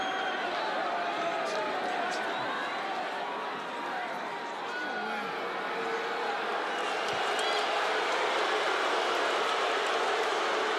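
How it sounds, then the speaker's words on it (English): A large arena crowd at a UFC fight between Justin Gaethje and Dustin Poirier makes a sustained, dense roar of disapproval, loud and continuous throughout, with a commentator's voice underneath. "Well, the crowd doesn't like it"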